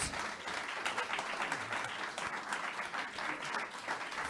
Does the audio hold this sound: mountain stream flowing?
no